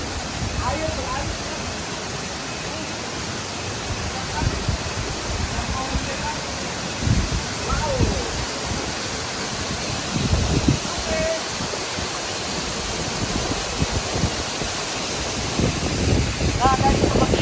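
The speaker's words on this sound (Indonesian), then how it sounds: "seperti ini air terjunnya ya. Labuan Kebo namanya ya." Labuhan Kebo waterfall in Bali rushes as a steady, broad roar of falling water, with gusty wind buffeting the microphone throughout.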